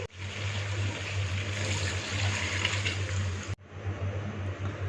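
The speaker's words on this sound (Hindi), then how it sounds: "इससे पहले इसमें 3 गिलास पानी डाल देते हैं।" Three glasses of water pour steadily into a pot of Afghani Kabuli pulao, a continuous loud gushing splash with a low hum beneath, briefly cutting off and then resuming.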